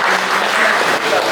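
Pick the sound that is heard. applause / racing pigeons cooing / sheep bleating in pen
applause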